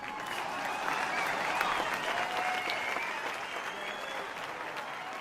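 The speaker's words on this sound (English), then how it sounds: "So let's hear a round of applause for Mila." A large crowd in the video game NBA 2K23 applauds steadily, a dense wash of clapping that holds at an even level for several seconds.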